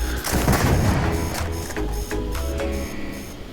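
Bridger weapon shots in the video game Starfield, heavy booming blasts with low rumble, a main burst early and further impacts following, loud and close with no talking.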